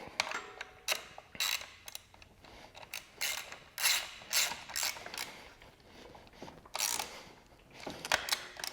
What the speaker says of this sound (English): I'm gonna tighten my pinch bolts on this side for the axle, tighten these things down.